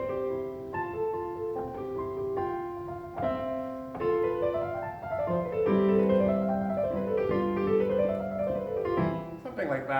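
Solo piano plays Mozart's Sonata in C, a light classical melody with flowing runs and steady left-hand accompaniment, moderately soft and alone.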